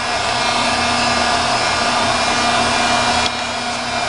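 A hair dryer runs steadily, drying adhesive on both sides of a piece, a loud continuous blowing whir that dips slightly near the end.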